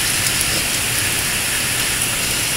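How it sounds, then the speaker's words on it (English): Heavy rain pours during a tropical storm, a loud, steady, dense hiss of rainfall filling the whole stretch with no breaks and no voices. "Heavy showers and heavy rain."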